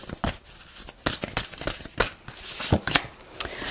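A deck of tarot cards is shuffled up close, a rapid run of crisp riffling flutters and slaps in uneven bursts, loud and with no talk.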